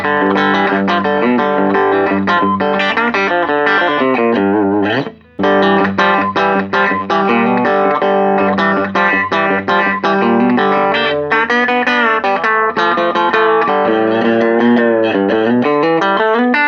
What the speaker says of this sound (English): It's on, it's compressed, but not like crazy compressed